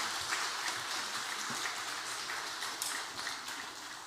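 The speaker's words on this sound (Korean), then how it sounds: "박수 한번 해주시지요." A church congregation at a Sunday service claps for the choir and musicians, a faint, distant and even patter of applause from a large room that holds steady throughout.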